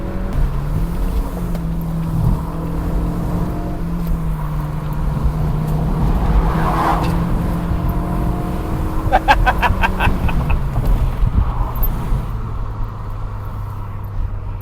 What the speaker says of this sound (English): Just had a nice little battle with that BM on this nice little country lane.